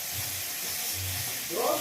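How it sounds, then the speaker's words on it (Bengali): Tomato fries in a pan with a soft, steady sizzle and hiss, quiet and continuous, with a brief louder rustle of stirring near the end. "টমেটোটা ভালো করে ভাজবে"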